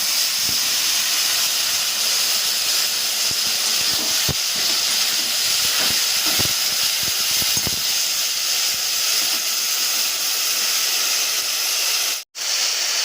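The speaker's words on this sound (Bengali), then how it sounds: "আমি সামান্য একটু জল এতে দিয়ে দেবো যাতে আলুগুলো খুব ভালো করে সেদ্ধ হয়ে যায়" A little water is poured into a hot pan of potatoes cooking with helencha leaves, giving a steady, loud sizzling hiss that runs unbroken, with a sharp burst near the end.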